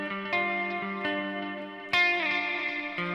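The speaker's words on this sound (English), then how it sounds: "Lots of slides. A sick, clean riff." Clean electric guitar riff, moving between fifth-shape chords with lots of slides, drenched in delay and reverb; ringing sustained notes with repeated plucked attacks, fairly loud and alone.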